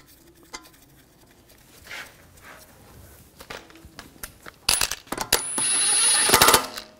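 Lug bolts are threaded in by hand to mount a wheel on a 2004-2009 Audi A4 Quattro 2.0L. Scattered light metallic clinks are followed by a louder burst of close clattering near the end.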